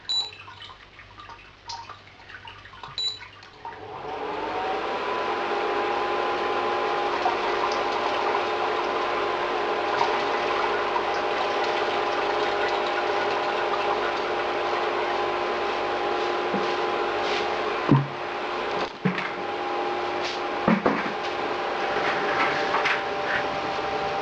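Schwarzbier wort heating toward a boil in a homebrew pot: faint clinks at first, then a steady hissing, humming rush with occasional soft ticks and pops that continues unbroken.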